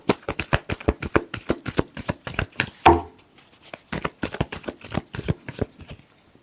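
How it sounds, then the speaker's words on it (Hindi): A tarot deck is shuffled by hand in rapid riffling bursts, close and crisp, with a brief pause midway before the quick card flicks resume. "Last shuffle."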